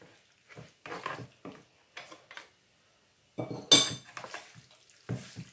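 Utensils clink and scrape against a dish as ground pepper and ingredients are mixed for a finely sliced beef sauté, a few scattered bursts with pauses between, close and fairly quiet.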